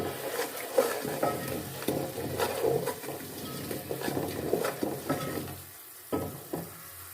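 Ground coriander, turmeric and salt are stirred into a sizzling pot for goat trotters paya, with a spoon scraping and clacking in uneven strokes over hot oil that fades toward the end.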